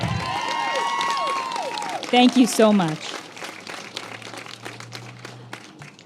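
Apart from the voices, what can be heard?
audience applause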